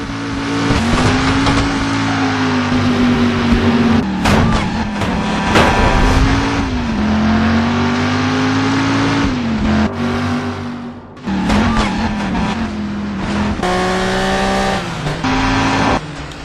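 A car roars through a chase in the video game Driver San Francisco, its engine revving and droning loudly while tyres squeal intermittently. Music plays underneath throughout.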